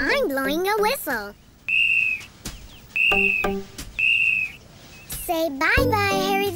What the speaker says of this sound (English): I'm blowing a whistle.